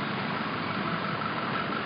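A garbage truck engine pulling away, a steady low rumbling drone with no clear change across the short span and no talk.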